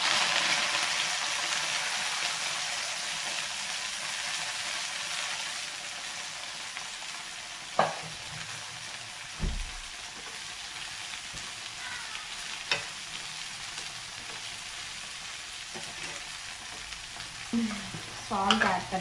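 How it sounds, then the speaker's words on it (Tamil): Coriander fries in hot oil in a pan, a steady crackling sizzle with occasional spoon clinks and stirring scrapes, close and uninterrupted by speech. "கொத்தமல்லி போட்டு நல்லா எண்ணெயில் வதக்கி எடுத்துக்கலாம்."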